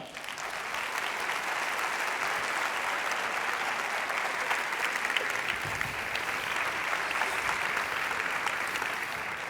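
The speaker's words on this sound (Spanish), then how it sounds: "eu queria pedir um forte aplauso" A marketing conference audience gives a strong, sustained round of applause as a chief marketing officer is introduced, dense steady clapping from a big hall crowd with no pause.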